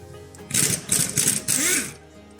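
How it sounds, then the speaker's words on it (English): An impact gun hammers at the CV axle bolts on a Volkswagen in several loud, rattling bursts close by, with a brief pause before the last burst. "even with an impact gun, it's a little difficult to remove the bolts."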